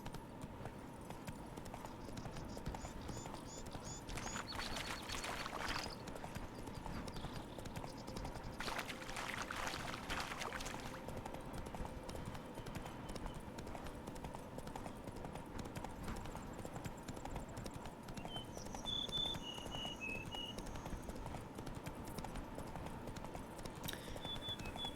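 A horse gallops steadily in The Witcher 3, with a continuous rhythmic clip-clop of hooves throughout, joined by faint game ambience and brief rushes of wind or motion noise.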